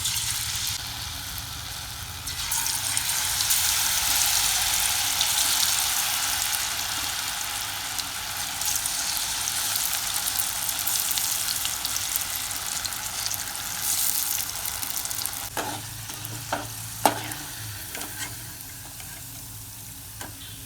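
Slices of elephant foot yam frying in hot coconut oil, a steady close sizzle that runs throughout, with a few clinks and knocks of a utensil near the end.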